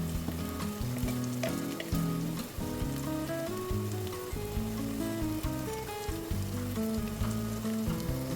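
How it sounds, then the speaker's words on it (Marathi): Garam masala, turmeric and coriander-cumin powder frying in hot oil for korma biryani, a dense continuous sizzle with steady crackle throughout, close and loud, with no talking. "मसाले देखील आता आपण तेलावर परतून घेऊया"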